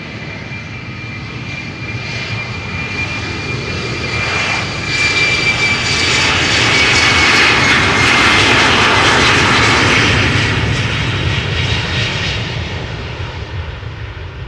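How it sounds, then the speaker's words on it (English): A KLM Embraer 190 jet departs from Amsterdam Schiphol bound for Stavanger, its engine roar rising as it accelerates down the runway, peaking loud and near midway, then easing off as it climbs away, with no talk. "We have a little Embraer taking off in the meantime."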